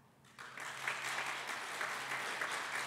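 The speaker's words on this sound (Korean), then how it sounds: "인사하실 때 큰 박수로 환영해 주시기를 바랍니다" A church congregation claps to welcome a new youth pastor, a modest burst of applause rising after a brief quiet start and holding steady, slightly distant in the hall.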